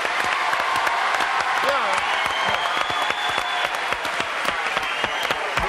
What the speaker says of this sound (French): Applaudissements, Bravo.